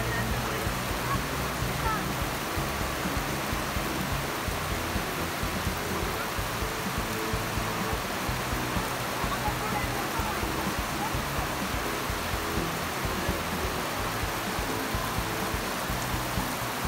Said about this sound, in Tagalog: Sobrang malakas ang ating ulan for this time at naabutan tayo